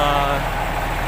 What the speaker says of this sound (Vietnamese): Máy thì nổ còn rất là êm nhé.